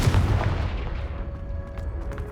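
A Confringo spell blast goes off in the Hogwarts Legacy video game, a single booming explosion at the start that fades into a low rumbling decay with faint magical sparkles afterward.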